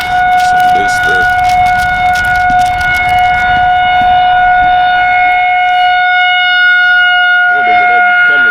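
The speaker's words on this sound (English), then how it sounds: "They do that every Saturday, to test to make sure the sirens work in case of it's an emergency." Civil defense siren sounding its weekly Saturday test, a loud steady sustained wail holding a constant tone throughout, with people talking faintly underneath at moments.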